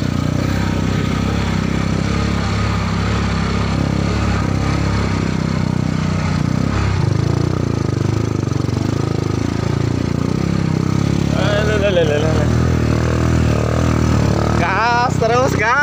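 A motorcycle engine drones and strains while climbing an extremely steep incline on the road to Curug Cempaka waterfall. Voices talk over the continuous loud engine noise.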